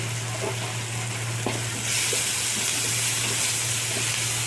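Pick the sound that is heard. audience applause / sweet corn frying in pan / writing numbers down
sweet corn frying in pan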